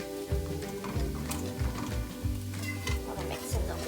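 Paneer tikka masala sauce is stirred in a pan over sizzling heat, a spoon scraping in a steady rhythm of repeated strokes, close and continuous throughout.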